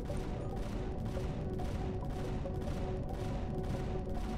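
Rocket fire in the space survival game Empyrion Galactic Survival, a dense continuous barrage of rapid explosive bursts and rumble, loud and unbroken with no talking.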